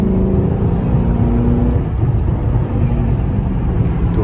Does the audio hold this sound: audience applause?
no